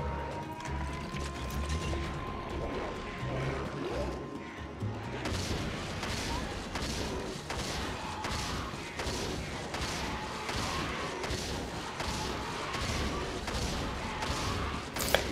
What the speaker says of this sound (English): Actually, I guess I could probably just siege fire from up here.